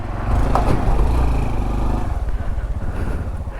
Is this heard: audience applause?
no